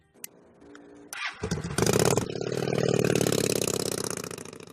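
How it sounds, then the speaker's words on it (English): A motorcycle engine turns over and fires up, then revs and holds a loud, steady throbbing run close by, with no talking over it. "I've been riding motorcycles for almost my entire life."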